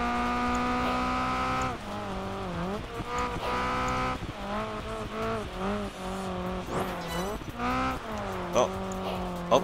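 A Honda S2000 races in Project Gotham Racing 4 with a high, revving engine drone that rises and falls through gear changes. Tires squeal repeatedly through the corners, and a voice can be heard faintly in the background.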